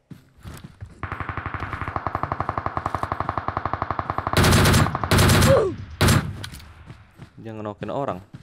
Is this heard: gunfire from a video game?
yes